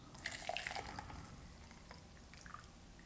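A pistachio gelato base is poured from a jug into a Ninja Creami tub, making a soft, continuous liquid trickle with a few small drips, faint and close.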